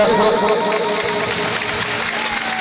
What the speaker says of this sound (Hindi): एक बार जोरदार ताली बजा दीजिए भगवान के।